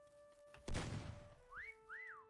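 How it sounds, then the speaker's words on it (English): Whistle in the video game Meccha Chameleon, two short rising-and-falling tones near the end after a dull thump, faint and alone. "Whistle inbound."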